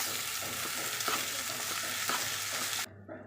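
Raw rice is stirred in a pan of hot oil with tempered spices, giving a steady, loud sizzle and scraping hiss that runs unbroken and then cuts off abruptly near the end.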